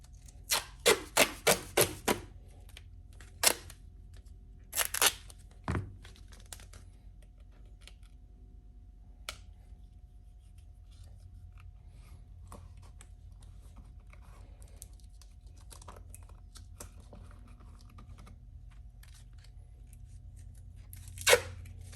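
Duct tape is torn from the roll in quick sharp rips, a burst of several close tears at the start and a few more scattered later, with quiet rubbing and pressing between them as layers are applied.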